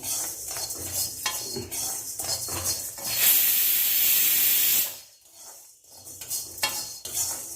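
Capsicum, cabbage, carrot and onion dry-roast in a pan, stirred with a spatula that clinks and scrapes rhythmically. A loud steamy hiss swells for about a second and a half partway through, then the stirring goes on.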